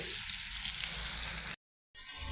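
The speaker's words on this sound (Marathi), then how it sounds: "दोन कांदे आणि दोन टॉमॅटो आहेत स्लाईस केलेले ते मी याच्यामध्ये घालतो" Sliced onions and tomatoes fry in oil in a pan for paneer lababadar, a steady close hiss and sizzle that cuts out briefly and then comes back.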